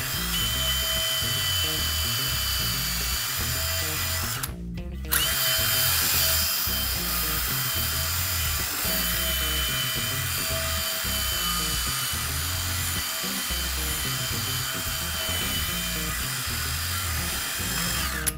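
A drill spinning a wire wheel scrubs rust off car wheels in a loud, continuous whine with grinding fluctuations, pausing briefly once before resuming.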